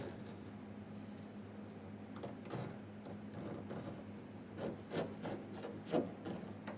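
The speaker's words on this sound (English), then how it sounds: "So what I'm doing at the moment is I'm just getting all the sealant off around the vents." Old sealant is scraped off around the vents on a car bonnet with a low, gritty rasping and rubbing that swells into firmer strokes toward the end, close and fairly quiet.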